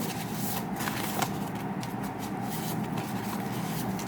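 Paper chits or playing cards being shuffled by hand, giving a steady, soft, close rustle that runs continuously for the whole stretch with no talk.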